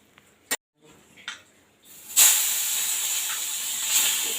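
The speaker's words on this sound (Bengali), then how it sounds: "প্রথমে বড়িগুলো ভেজে নিচ্ছি।" Lentil dumplings (bori) hitting hot oil in a pan, a few small taps and then a sudden loud, steady hissing sizzle that continues close and strong.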